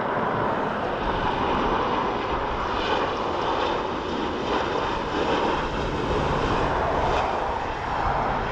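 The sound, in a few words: Embraer aircraft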